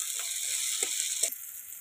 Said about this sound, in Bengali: তেলের ওপর দিয়ে দেবো কেটে রাখা পেঁয়াজ।